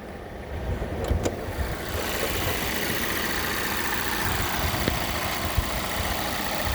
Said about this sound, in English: supercharged and turbocharged 4-cylinder engine, 316 horsepower, transverse mounted.